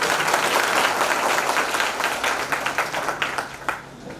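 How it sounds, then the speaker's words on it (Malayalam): An indoor audience applauds for school athletes being congratulated, a dense burst of clapping that stays strong and then thins into scattered individual claps near the end. "അഭിനന്ദിക്കുമ്പോൾ നന്നായി കൈയടിക്കും"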